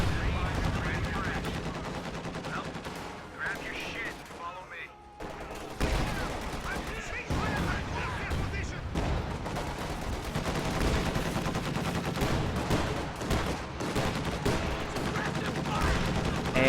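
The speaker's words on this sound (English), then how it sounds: "Apparently already dying to LMG and mortar fire." LMG and mortar fire rage through a war video game battle involving paratroopers, with dense overlapping bursts of automatic gunfire and blasts sustained loudly throughout, dipping briefly midway before resuming.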